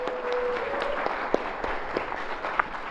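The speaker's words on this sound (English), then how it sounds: "Clap for Maddie." An audience at a spring 2025 student TV entertainment premiere gives a burst of steady clapping for Maddie, a dense patter of applause with a few louder individual claps standing out.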